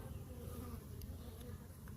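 Honeybees from a Colony Air bee hive, gathered outside the hive with their queen, make a steady, dense low buzz that holds evenly throughout at close range, with no other sounds above it.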